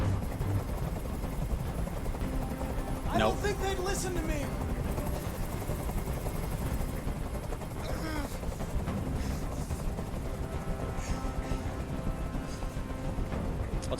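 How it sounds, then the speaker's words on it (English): Helicopter hovering in the video game Detroit: Become Human, a steady broadband rotor drone running continuously beneath game dialogue and other scene sounds. "Tell that helicopter to get out of here."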